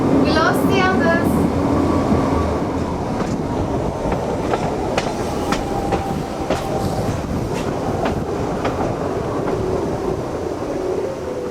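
A Swiss train bound for Grindelwald rumbles steadily at Interlaken station, with continuous rolling rail noise, brief squeals and clatter, and voices in the background.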